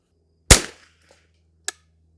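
A custom Ruger 10/22 rifle fires at a 100-yard range. One sharp, loud crack with a short decaying tail is followed about a second later by a brief, fainter snap, over a quiet low hum.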